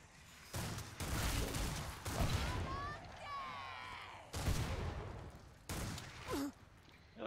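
Bursts of gunfire in Killing Floor 2 come in several loud clusters separated by brief lulls, mixed with impact and creature noises, with a voice speaking between them.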